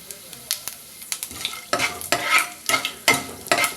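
Mustard seeds, cumin, chana dal and urad dal crackle in hot oil for a tempering, a steady sizzle broken by repeated sharp popping bursts, close and fairly loud with no talk.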